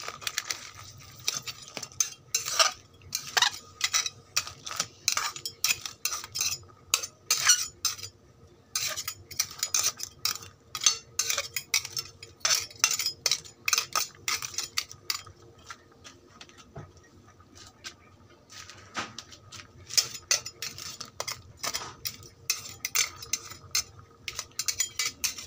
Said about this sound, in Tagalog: Haluin natin mga master para palitan sila magpailalim.